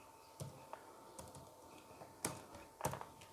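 Keys clack quietly on a computer keyboard as Angular code is typed, with scattered single and paired taps at an irregular pace in a quiet room.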